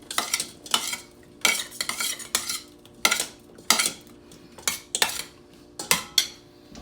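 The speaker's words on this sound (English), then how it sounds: "And all you do is you mix it up." Extra virgin olive oil being mixed in a little bowl, about a dozen close, rhythmic strokes of a utensil scraping and clinking against the bowl, each short and bright, with quiet gaps between.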